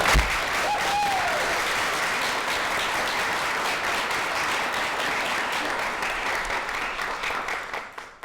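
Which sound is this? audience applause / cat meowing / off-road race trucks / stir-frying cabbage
audience applause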